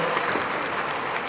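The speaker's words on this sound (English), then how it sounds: "Give yourselves a nice round of applause" Crowd applause at a concert event, a dense even roar of many hands clapping at moderate distance, steady for the whole brief moment with no voices standing out.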